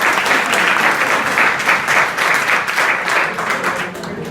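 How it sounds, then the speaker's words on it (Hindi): Students at an inter college adolescent education program applaud together, a dense, steady wash of many hands clapping at close range for several seconds with no voice over it. "इनके लिए तो ताली बजाओ पहले"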